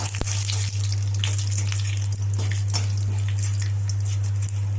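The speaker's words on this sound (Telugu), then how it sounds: "పోపు కూడా వేగింది" Cumin, mustard seeds, split urad dal and broken dried chilli tempering in hot oil give a steady, loud sizzle and crackle throughout, with a constant low hum underneath and no talking.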